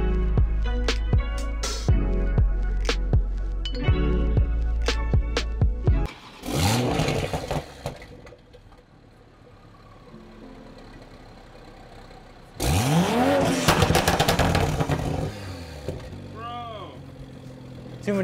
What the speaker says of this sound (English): that's way too many pops